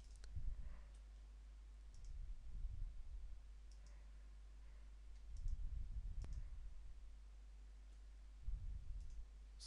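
A computer mouse clicking while text is positioned on a vision board, with sparse, faint single clicks spread over a quiet background hum and no talking.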